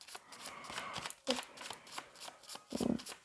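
Tarot cards made of thin card-sheet paper are shuffled by hand, giving quiet, close riffling and flicking bursts with a sharper slap near the end. No talking is heard.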